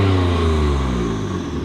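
A BMW M4 with an ARMYTRIX valve exhaust set to closed revs, a loud, close, muffled engine note whose deep harmonics climb briefly and then ease off, with no talk over it.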